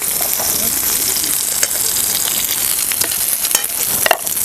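Green chilies sizzle and fry in a hot pan, a steady crackling hiss with occasional louder pops and spatters, close up and without talk.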